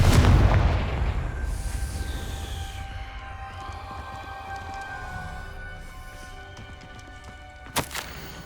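Confringo spell blasts in the video game Hogwarts Legacy: a loud, booming explosion erupts at once and rumbles off into a long, ringing decay over tonal hums, followed by a sharp crackling burst near the end.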